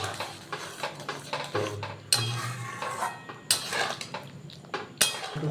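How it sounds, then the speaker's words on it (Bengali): A utensil stirs spice mix in a cooking pan, with repeated metallic scrapes and sharp clinks at an uneven rhythm, close and moderately loud. "এবার মশলাটা ভালো করে মিক্স করার পালা"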